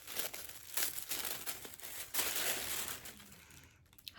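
Tissue paper crinkling and rustling close by while a Michael Kors Mirella medium handbag is unboxed, a continuous crackle with sharper bursts of crumpling.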